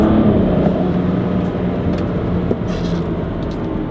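A BMW X3 35i SUV with the turbocharged N55 engine pulls hard with traction control switched off, giving a loud, steady engine and road roar that holds for several seconds without a break.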